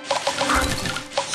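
In Candy Crush Saga, the Sugar Crush effect sets off a burst of bright chiming pops and crunchy smashes in quick succession, with a swooping tone in the middle and a final pop near the end.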